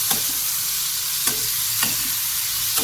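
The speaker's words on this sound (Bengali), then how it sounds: "দেখো পেঁয়াজটা ঠিক এরকম ভাজা হবে" Onions fry in a pan on a gas stove, giving a steady close sizzle broken by a few soft scraping stirs at intervals, with no one talking.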